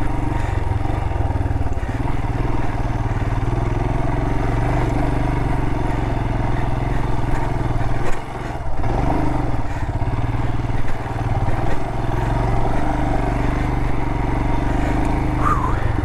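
A motorcycle rides up out of deep sand on a rugged canyon jeep trail, its engine droning steadily and loudly throughout with a brief dip midway, no talk over it.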